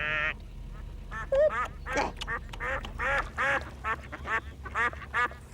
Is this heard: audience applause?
no